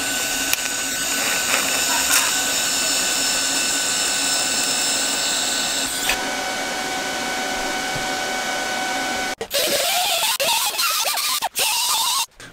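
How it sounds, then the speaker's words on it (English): A welder joins a cracked support piece on a suspension arm, a loud, steady crackling buzz that runs for several seconds and then breaks into stuttering bursts with brief pauses. "So I'm just going to go and weld that before I powder coat everything."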